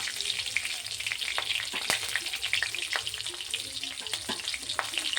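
Cumin seeds, green chillies and asafoetida sizzle in hot oil in a pan, a steady close crackle with scattered sharp pops and spits and no talking.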